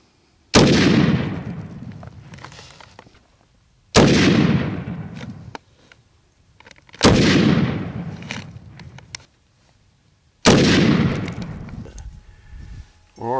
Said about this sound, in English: we've decided to shoot it four more times in virtually the same place, same little 4-inch diameter spot